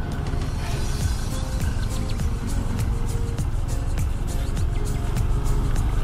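Steady road traffic on Diversion Road in Davao City, cars passing in a continuous loud rumble and whoosh with no pauses, close by and without any voices.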